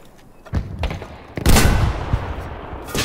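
Battlefield V Firestorm combat with several close, punchy gunshots spaced irregularly, followed by a loud sustained volley that rolls on before another shot at the close.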